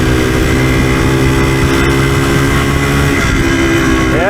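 A Yamaha DT360 motorcycle engine in fourth gear holds a loud, steady, buzzing drone close to the microphone, its pitch sustained, then sweeps upward sharply near the end as the revs climb.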